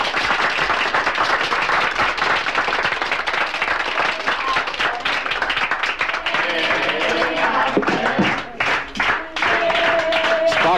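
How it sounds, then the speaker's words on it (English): Applause breaks out on a Star Trek third-season set during filming, dense continuous clapping from a group of people, loud and near, with some scattered talk mixed in toward the end. "Applause."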